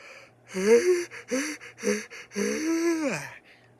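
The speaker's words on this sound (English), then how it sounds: "Why do I yawn like that?" A person lets out a drawn-out yawn in a series of breathy, voiced gasps, rising and falling over a few seconds, close and fairly loud with no talking.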